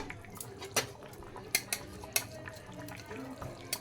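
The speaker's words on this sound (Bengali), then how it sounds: "ভেজে রাখা মাছগুলো সব ঢেলে দেবো।" Fried fish being tipped into a cooking pot for a potato and pointed gourd fish curry, heard as several sharp metallic clinks and scrapes of utensils against the pot over a soft background.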